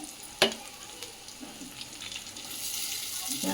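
Flattened rice (poha) going into a pan of fried seasonings for atukula upma and being stirred, with a sharp clack at the start, then a soft crackle that swells into a broader sizzling hiss toward the end.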